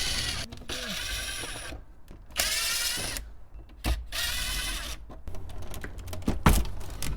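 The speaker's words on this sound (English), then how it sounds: "you're going to have generally 3 Phillips screws" Phillips screws being backed out of a Nissan Frontier radio bezel, with close mechanical clicks, scraping and rattles of a screwdriver or driver in short bursts separated by pauses.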